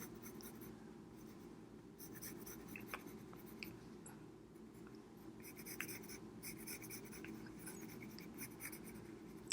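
A pencil sketches eyebrows onto a drawn face, giving a soft, continuous scratching of graphite on paper with small irregular strokes, close and very quiet.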